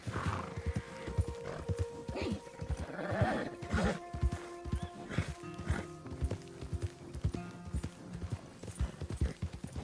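Hooves of a weak, struggling horse in Red Dead Redemption 2 clip-clop in a steady trotting rhythm while riding through a forest, with an occasional whinny among the close, clear footfalls.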